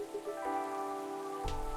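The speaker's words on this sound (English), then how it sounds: "That's just the rain." Steady rain falls in a soft continuous wash under a tonal, hum-like background, fairly faint and with no talking.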